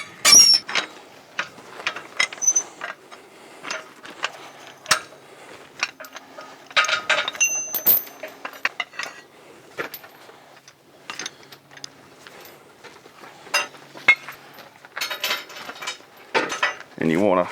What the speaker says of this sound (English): we'll remove the bottom half of the tap machine here.